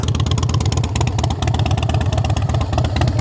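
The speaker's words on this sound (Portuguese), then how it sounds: "Vibra, porque é um motor em V e tem que vibrar, porque é Harley" A Harley-Davidson V-twin motorcycle engine runs steadily close by, a loud, deep, uneven thumping rumble with a rapid pulsing beat and no talk over it.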